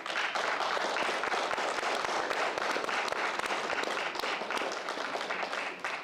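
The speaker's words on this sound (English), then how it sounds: "give your family and loved ones a round of applause" Graduation audience at a law enforcement academy ceremony applauds families and loved ones with steady, dense, loud clapping that fills the hall without pause.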